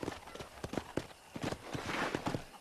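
Horse hooves clip-clop in Red Dead Redemption, a run of quick, uneven thuds from a nearby mount walking over ground, heard alone without talk.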